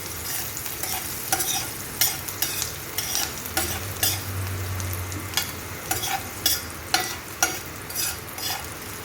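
Crushed garlic frying in oil in a pan for moringa leaf curry, a steady sizzle broken by repeated sharp scrapes of a spatula stirring at an irregular pace, close and clear.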